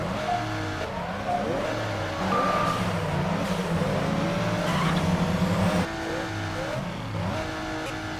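Racing cars in Midnight Club 3: DUB Edition Remix speed against Corvettes in a San Diego tuner race, engines revving and shifting continuously, with a louder sustained engine drone in the middle and occasional high whines.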